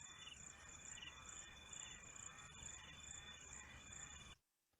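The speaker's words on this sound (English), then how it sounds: "You can hear crickets and frogs in the background." Crickets trill steadily at night in the African bush, a dense continuous high chorus with a low background hum, quite faint and alone before cutting off abruptly near the end.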